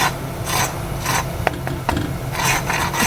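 Crispy keema-filled rawa and maida parathas crunch up close in several short, rasping bursts, with no talking.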